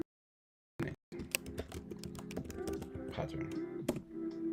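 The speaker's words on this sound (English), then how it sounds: "If I just go on Google here and I just type in rising" Computer keyboard typing, a quick cluster of close clicking keystrokes entering a Google search, starting after a brief silence and continuing under faint background talk.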